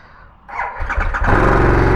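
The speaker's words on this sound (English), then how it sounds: "you flip that on, you see the cool little thing going on there, press and hold the start button" A 2021 Harley-Davidson Sportster S cranks with a quick starter whir, fires up and settles into a loud, close, steady idle with a deep throbbing rumble.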